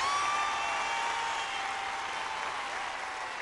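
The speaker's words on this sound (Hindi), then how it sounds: "तो एक बार जोरदार तालियां अनुष्का के लिए।" A large studio audience applauds for young dancer Anushka at a televised dance competition grand finale, a loud, sustained roar of clapping and cheering with whistles threading through it.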